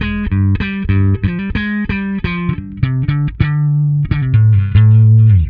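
A dense metal riff through Neural DSP's Parallax X distortion plugin, rapid chugging palm-muted notes and sustained chords in a driving rhythm, loud and upfront with no voices.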